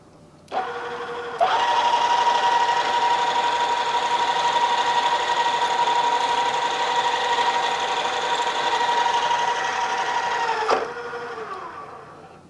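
A drill whines at a steady pitch for about ten seconds while drilling a hole in metal in a machine shop, starting with a sharp onset and winding down at the end, loud and close.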